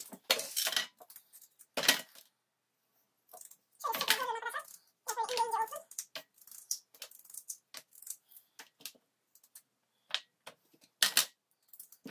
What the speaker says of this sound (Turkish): Şöyle tepsimizi, patateslerimi doğrayacağım.